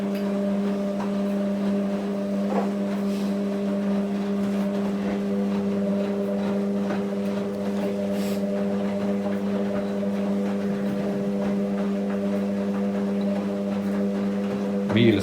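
Two washing machines, a Hotpoint WM63 and a Miele W562, run their final spin together, giving a steady, fairly loud whirring drone with a constant motor hum throughout.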